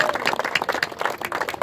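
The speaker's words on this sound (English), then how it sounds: "And now let's give you all a round of applause." Applause from the audience at a Fil-Am seniors association gathering in a park, a short burst of dense clapping at steady strength, fairly close and with no voices over it.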